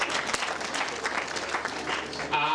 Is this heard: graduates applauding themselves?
yes